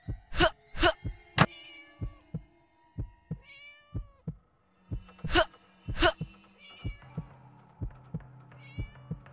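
Cat meows in the Scary Teacher 3D video game: several loud, rising cries in quick pairs, separated by short pauses, with low thumping beats between them and no talk.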